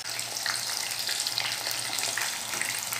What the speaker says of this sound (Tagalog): Ito na guys, prito na natin.